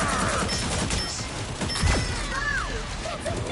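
Punisher's cannon firing in Marvel Rivals, a dense burst of rapid gunfire with impacts and whooshing effects, loud and close over game sounds.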